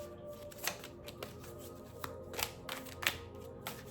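Oracle cards being shuffled by hand, a soft papery riffling with several brief flutters and taps, close and fairly quiet with no talking.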